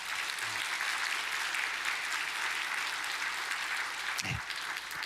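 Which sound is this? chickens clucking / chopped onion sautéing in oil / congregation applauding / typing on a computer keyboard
congregation applauding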